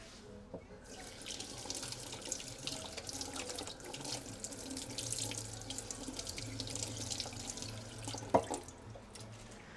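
A matcha whisk is rinsed under a running kitchen tap: a continuous close stream of water splashing into the sink, with a few drips and small knocks and a louder clatter near the end.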